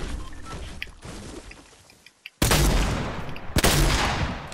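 Shotgun blasts in a video game, two loud, sharp booming shots about a second apart following quieter rustling and game ambience, each with a rough, lingering tail.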